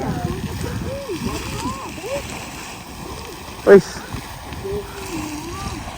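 A geyser erupts: rushing, splashing water fills the background while people talk over it, and a short louder splash bursts through partway in.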